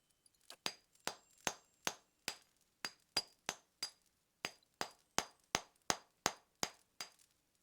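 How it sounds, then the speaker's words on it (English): A hammer strikes a chisel against brittle rock to widen a tunnel in the Pillars of Eternity video game, about twenty sharp, ringing metallic taps in a steady rhythm, close and clear with no talk. "Let's widen the tunnel with a hammer and chisel."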